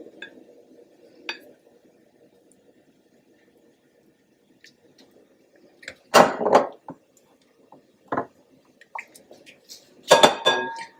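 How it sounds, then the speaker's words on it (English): Softened butter and garlic mixed in a bowl: mostly quiet, then two short bursts of close utensil clattering and scraping against the bowl, with a few faint taps between. "Just give that a quick mix, loosen that up."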